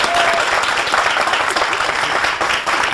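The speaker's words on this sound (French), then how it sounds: "On peut encore l'applaudir pour cette mélodie" Loud studio audience applause following a song on a television variety show, dense clapping sustained evenly across the few seconds.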